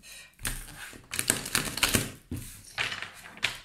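Tarot cards being shuffled by hand, a series of close crisp riffling and tapping bursts in uneven clusters.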